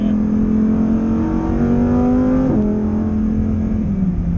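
Lamborghini Huracán Performante V10 on a race track, its engine note held steady then blipping up sharply on a downshift, loud and continuous from inside the car, with no talk.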